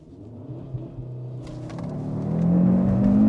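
A Cupra Formentor VZ5's five-cylinder engine idles low, then builds into a rising, throaty rev for a launch, growing louder and more strained toward the end, with no voices.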